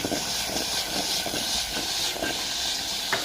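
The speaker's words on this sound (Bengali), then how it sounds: "এখন প্রেশার কুকারে সিটি মারবে" A pressure cooker steadily hisses steam while cooking a sour amra (hog plum) dish, a loud continuous breathy rush with no talk.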